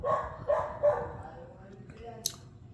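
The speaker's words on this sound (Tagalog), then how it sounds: "Grabe yung aso. Ang ingay." A dog barks three times in quick succession nearby, followed by quieter whimpering sounds and a brief sharp noise.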